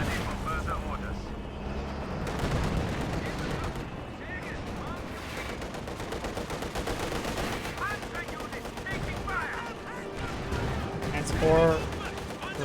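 Rapid small-arms gunfire and booming tank cannon shots ring out in a Company of Heroes 2 battle between OKW and Soviet forces, dense and continuous beneath a caster's steady commentary.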